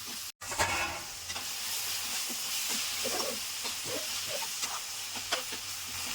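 Bottle gourd pieces sizzle and hiss in a hot pan while being stirred, a steady bright frying crackle broken by scraping stirs and a brief drop at the start.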